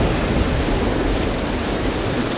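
Loud, steady rain with a low rumble of thunder from a thunderstorm in the video game Dead Island Riptide, a dense continuous wash of noise with no speech.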